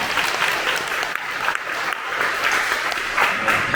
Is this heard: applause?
yes